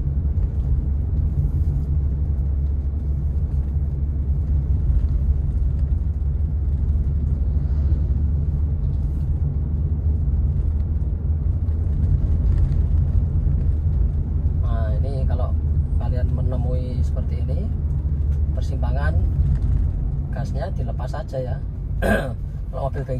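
A manual car pulls away on a provincial road, a steady low engine rumble droning throughout, close and loud, with someone talking over it near the end.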